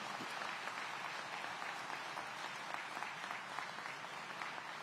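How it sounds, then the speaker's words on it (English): Steady, even applause from an audience at a live public safety event in the City of Aurora honouring the Aurora fire department, a broad wash of many hands clapping heard at a moderate distance. "Let's give them a big round of applause again for leading the way into the future."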